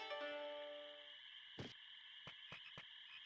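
Frog croaking from ShogunGekomon casting a spell in the 1999 PlayStation game Digimon World 1: a warbling croak, then several short sharp croaks in quick succession, clear and close with no talking.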